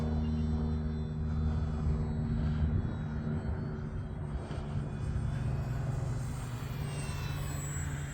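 An E-flite Valiant RC airplane flying at a model aircraft field gives a steady electric motor drone with a low rumbling hum, held at an even level throughout with no talk.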